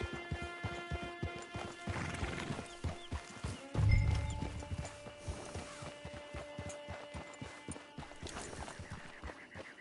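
In the video game Red Dead Redemption 2 Online, hooves clip-clop in a steady trot with a horse whinnying partway through, plus a thud and some mechanical rattling mixed in.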